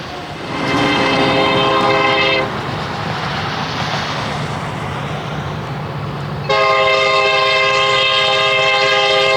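A Union Pacific freight train horn sounds in two long blasts on the Enid Subdivision near Bison, with the steady rumble and clatter of unit train rail cars rolling past in between.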